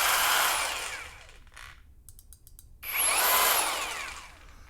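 A cordless drill runs in a Kreg Rebel pocket hole jig, whirring loudly up to speed, winding down and falling quiet, then spinning up again close by.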